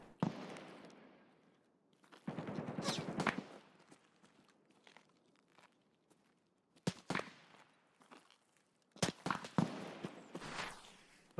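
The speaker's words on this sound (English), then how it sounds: "Somebody's shooting at me." Bursts of gunfire in the video game Escape from Tarkov, sharp clusters of cracks separated by quiet gaps, moderately loud and mixed with footstep-like thuds.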